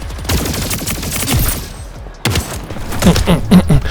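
Rapid gunfire from a power weapon in a first-person shooter video game, loud and close, with a short pause before another burst of repeated shots and thuds.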